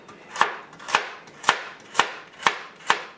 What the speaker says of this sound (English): So we're going to cut these the same way.